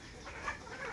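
Hens on a small poultry farm give a brief burst of clucking, close and moderately quiet, lasting only about a second.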